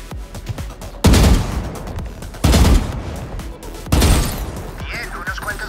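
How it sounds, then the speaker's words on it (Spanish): Gunfire in a Valorant training range as bots are shot: three loud bursts of rapid shots in a steady rhythm, separated by quieter stretches. "Luego detente y dispara sin moverte."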